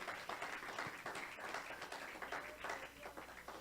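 A church congregation applauding during a sermon, a steady wash of many hands clapping at a moderate distance, fairly quiet and continuous.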